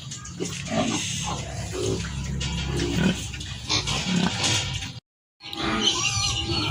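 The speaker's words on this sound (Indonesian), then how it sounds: "di samping kandang pejantan ini kami akan tempatkan induk babi putih, dan juga akan diberi makan" A white sow grunts and snorts in a pen, with a run of close, rough oinks and occasional squeals, a brief gap of silence, then more grunting.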